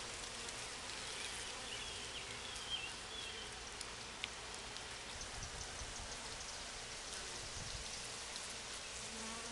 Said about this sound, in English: There's a worker bee cleaning out the hole right there.